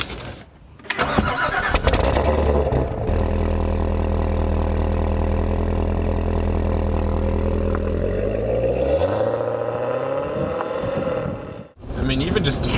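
A 2016 Corvette Stingray Z06 on a test drive fires up with a sharp start, then holds a loud, deep, steady engine rumble whose pitch climbs as it accelerates before cutting off abruptly near the end.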